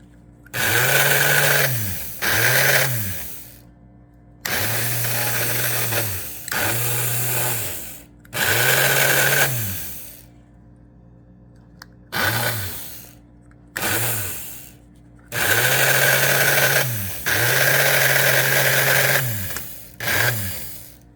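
An early American Flyer 752 Seaboard coal loader with two-button control runs in repeated bursts, its motor whirring with a steady hum for a second or two at a time, then cutting out, about nine cycles in a row, close and loud.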